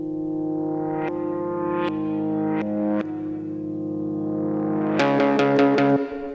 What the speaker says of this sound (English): plucking some notes and then reversing it, and it like reverses into the main section